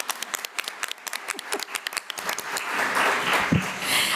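At a school board meeting, scattered individual claps start sparse and distinct, then swell into fuller, denser applause from the audience toward the end.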